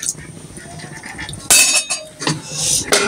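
A metal lid is set back onto a cooking pot of pumpkin curry with one sharp, bright clank, followed by a couple of softer clinks.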